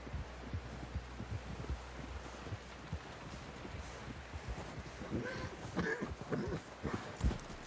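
Horse hooves plod at a walking pace in Red Dead Redemption 2, a steady run of soft, fairly close thuds over a low rumble of background noise, with the steps growing louder and more scattered toward the end.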